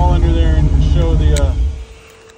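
A 6.0L LS L76 V8 idles in a 1971 Jeep Gladiator with a homemade exhaust, a steady low rumble that cuts out as the engine is shut off.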